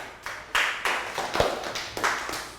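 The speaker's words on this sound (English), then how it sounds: "Round of applause" A classroom of young students claps in scattered, uneven bursts. The close, sharp individual claps and taps build and fade over a couple of seconds.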